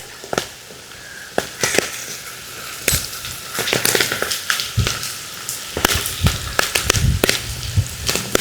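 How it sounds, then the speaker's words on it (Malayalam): Clams frying in hot oil crackle with a steady sizzle, broken throughout by sharp, irregular pops that burst loudly and close up like small firecrackers. "എണ്ണയിൽ കിടന്ന ഇങ്ങനെ ഓരോ കക്ക ഇങ്ങനെ ടപ്പ് ടപ്പ് ടപ്പ് തമ്മിൽ പൊട്ടും."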